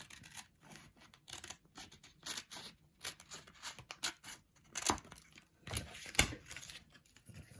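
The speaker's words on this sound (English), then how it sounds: "Get our scissors, cut off the edge without cutting the postcard" Scissors snip through paper in a run of quick, crisp cuts, trimming the edge of a postcard, close and quiet, with light rustling between snips and no one speaking.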